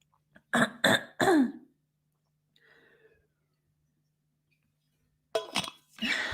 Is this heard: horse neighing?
no